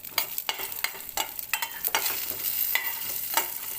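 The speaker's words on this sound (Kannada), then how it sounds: "ಬಾದಾಮಿ ಗೋಡಂಬಿ ಫ್ರೈ ಮಾಡ್ಕೊಳ್ತಾ ಇದ್ದೀನಿ." Almonds, cashews and raisins frying in a pan for moong dal payasa: repeated stirring scrapes land at a steady rhythm over a soft, continuous sizzle, close and moderately loud.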